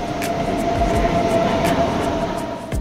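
A train rolls along with a steady, loud rumbling drone and a faint whining tone, continuous throughout with no voices.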